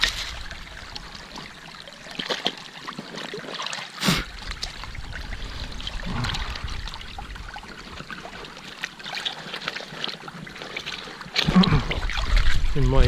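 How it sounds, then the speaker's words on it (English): Water splashes and churns while someone digs by hand in a shallow stream, with irregular sloshing bursts over a constant rushing flow, close to the listener. "In my excitement, I'm splashing everything."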